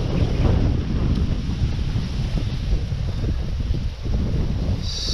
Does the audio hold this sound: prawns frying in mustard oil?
no